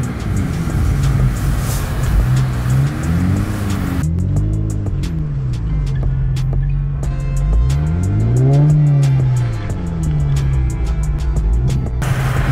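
An Infiniti Q60 with FBO modifications revs hard while doing pulls in snow, its loud, close engine climbing and dropping through repeated sweeping rises with a steady roar underneath and brief cutoffs between pulls.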